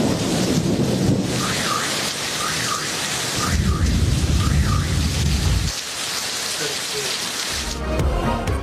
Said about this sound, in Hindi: इस्लामाबाद और रावलपिंडी में बादल बरस पड़े, मौसम सुहाना